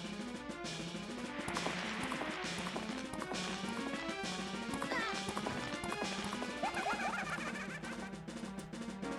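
Rhythmic hoofbeats of a galloping horse clatter steadily over loud game music, with a brief whinny partway through.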